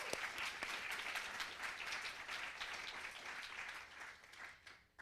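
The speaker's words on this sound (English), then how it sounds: "I would like to applaud the Mayfield Fund for their help." A summit audience applauds a sponsoring fund: steady, dense clapping from many hands fills the room at an even level, then thins and fades out near the end.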